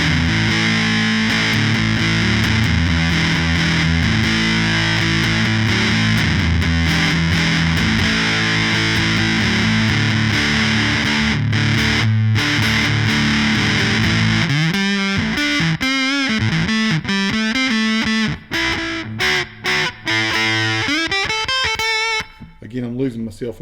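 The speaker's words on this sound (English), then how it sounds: "that's a lot of fuzz" Electric guitar through a North Carolina-built fuzz pedal, thick saturated chords sustained loudly, then breaking into choppy stabs and short bursts near the end.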